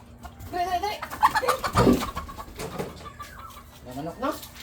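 Chickens clucking and calling at close range, several short bursts of fowl vocalizations scattered through the clip, mixed with people talking and background noise.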